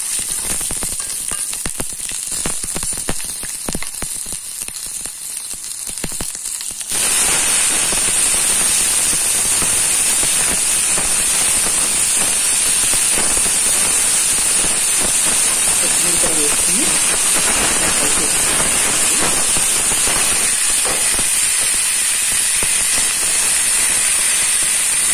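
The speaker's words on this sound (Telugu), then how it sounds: "ఇందులోనే కొత్తిమీర వేసుకుని ఫ్రై చేసుకోవాలన్నమాటండి" Coriander leaves frying in a pan for a chutney to serve with dosa and idli, a loud steady sizzle and hiss that jumps up sharply partway through and then continues evenly, close by.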